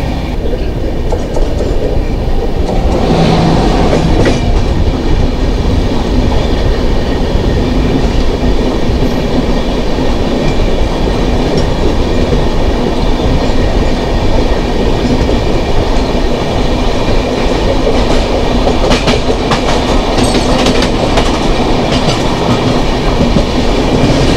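The 12222 Howrah–Pune AC Duronto Express rolls past in Jharkhand with a loud, steady rumble and rhythmic clickety-clack of wheels over rail joints, sustained close by for the whole stretch with no voices.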